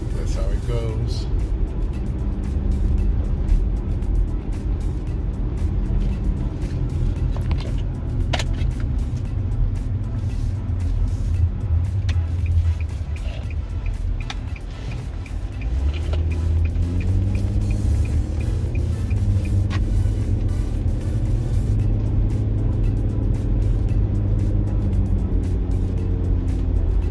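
Infiniti FX35 driving, with steady engine and road rumble close up inside the cabin throughout, a brief dip midway, while a voice talks over it.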